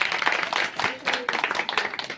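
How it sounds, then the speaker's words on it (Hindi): An audience at a religious discourse claps loudly in an uneven burst of hand claps, with some voices mixed in. "जोरदार तालियां बजा दो इस बात पे"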